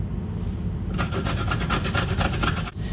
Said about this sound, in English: The carrot needs to be grated, it needs to be fine for the flavour and stuff